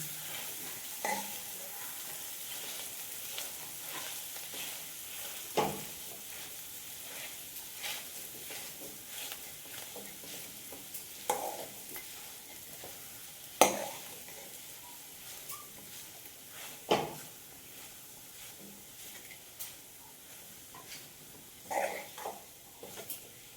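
Boiled potatoes are stirred and mixed in a sizzling pan for farali aloo puri paratha. A continuous fry hiss runs underneath, broken by sharp, irregular scrapes and knocks of the spoon against the pan.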